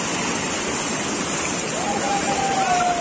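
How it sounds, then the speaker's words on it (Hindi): Pirandavne Waterfall in Ratnagiri, with water rushing over rocks in a constant, loud, broadband roar that stays close and unbroken for the whole stretch. "पानी बह रहा है"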